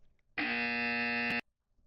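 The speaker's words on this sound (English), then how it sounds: "you're gonna hear a buzzer" A single loud, flat electronic buzzer from water polo game timer software blares for about a second, then stops abruptly in a quiet room.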